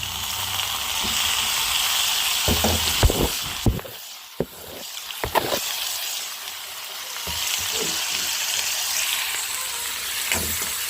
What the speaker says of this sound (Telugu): టమాటా వేసేసుకున్నాం